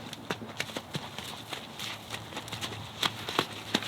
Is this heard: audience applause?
no